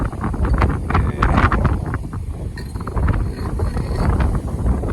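Strong outdoor wind buffets the microphone beside a Sonalika 60 RX tractor standing in a farm field, a loud, continuous rumbling roar with gusts surging and easing throughout.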